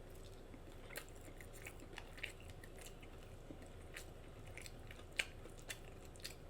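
Quiet, close mouth smacking and wet chewing on a Carl's Jr. Western Bacon Cheeseburger, with soft squishy bites and occasional sharper clicks over a low hum.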